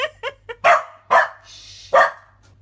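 Dogs bark indoors in a rapid burst of short yips, then three louder full barks spaced about half a second apart, close to the microphone with a faint hum underneath.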